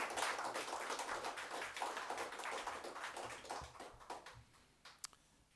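Audience applause at the ONOC SPC Micro Qualifications awards programme, a steady wash of many hands clapping that slowly fades, ending with a few scattered claps.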